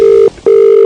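Two loud electronic telephone rings in quick succession, each a steady pure tone lasting about a quarter second, separated by a brief gap, placed during a prank phone call.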